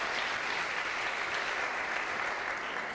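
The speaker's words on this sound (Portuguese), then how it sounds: "Quem pode aplaudir o Senhor?" Church congregation applauding during a sermon on prayer, a steady, dense wash of clapping that holds at even loudness for the whole stretch, with no voices rising above it.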